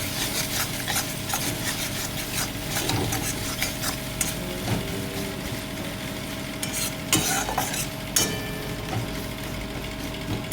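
Onions and spices fry in a pan for egg tarka, a continuous close sizzle broken by repeated scraping and clinking strokes of a spatula stirring them around.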